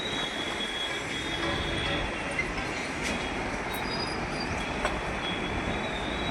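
A train rumbles steadily at a railway station, a continuous broad roar with faint squeals of wheels on rails, heard from some distance.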